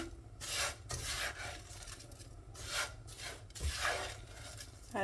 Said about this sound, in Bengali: সেমাইটা ভাজি করে নিতেছি